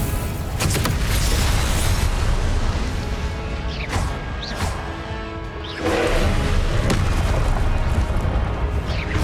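Confringo spell explosions in the Hogwarts Legacy video game boom and crash loudly several times in a row, heavy blasts with crackling bursts between them over a dense rumbling backdrop.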